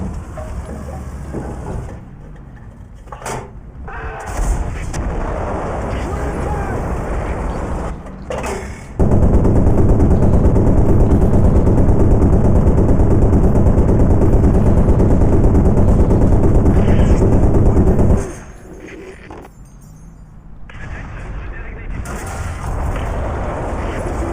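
Tank gunfire in the War Thunder game, with a few sharp cannon blasts, then a long loud sustained engine roar that cuts off to quieter rumbling and more scattered shots.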